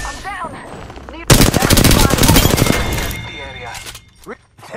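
Apex Legends video game gunfire: a loud sustained burst of rapid automatic shots lasting about two seconds, with game character voices speaking before and after.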